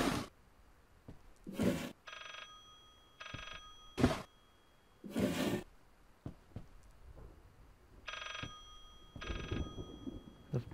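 A telephone rings in the horror video game Layers of Fear, sounding as short, sharp bell bursts repeated at irregular intervals through a quiet background.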